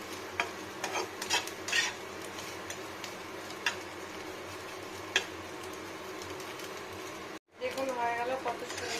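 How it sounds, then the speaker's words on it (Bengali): Fish roe frying with onion and garlic in a pan, a light sizzle under intermittent scraping stirs and ticking taps, with a voice talking over it and a brief pause near the end. "মাছের ডিম ভাজা পেঁয়াজ রসুন দিয়ে"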